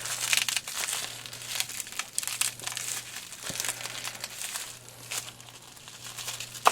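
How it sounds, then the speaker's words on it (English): Plastic bubble wrap packaging around a Dell Inspiron 545s computer part being handled, close crackling and crinkling rustles in irregular bursts over a faint steady hum. "Bubble wrap."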